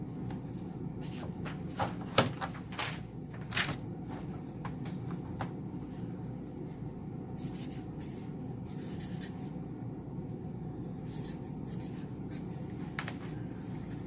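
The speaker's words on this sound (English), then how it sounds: "Let me get a clean sheet of paper here for y'all." Pen strokes scratch across a clean sheet of paper in an indoor room, a steady run of short scribbling bursts with a few sharper taps, close and fairly quiet over low background hum.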